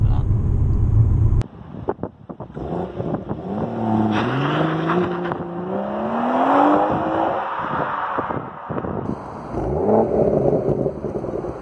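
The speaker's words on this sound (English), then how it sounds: "that sort of nice engine and exhaust note" 2018 BMW M140i engine and exhaust, a loud close rumble followed by a rising rev with climbing tonal harmonics as the car accelerates, then settling to a steady drone.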